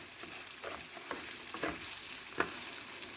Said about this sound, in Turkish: Şu anda daha pilavın iyice kavrulma aşamasında henüz daha tam olarak kavrulmadı.